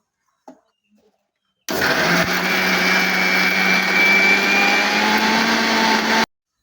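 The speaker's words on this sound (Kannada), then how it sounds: "ಇದನ್ನು ಮತ್ತು ಕಾಯಿ ತುರಿ ಎಲ್ಲ ಜೊತೆ ಹಾಕ್ಕೊಂಡು ಅದನ್ನು ಗ್ರೈಂಡ್ ಮಾಡ್ಕೊಳ್ಳೋಣ" A kitchen mixer grinder whirs loudly at high speed for about four and a half seconds, grinding cinnamon, pepper, cardamom, cloves, coriander seeds and grated coconut, starting and stopping abruptly after a couple of faint taps.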